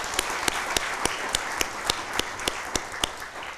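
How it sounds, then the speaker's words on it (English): A round of applause at a Richland Fire Department badging ceremony, with a steady wash of clapping and a few crisp, evenly spaced claps standing out close by. "let's give those folks a round of applause as well"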